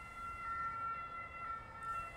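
An ambulance siren sounds faint and distant as a steady, thin wailing tone that carries on without a break and without any voices.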